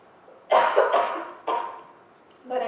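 Two harsh, close coughs in quick succession, followed by a third shorter cough after a brief pause.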